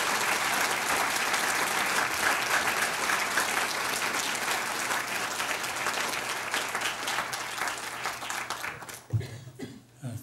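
Sustained applause from a university lecture audience welcoming translator Robert Alter to the podium, dense steady clapping for about nine seconds that thins and stops near the end, with a cough or two but no talk.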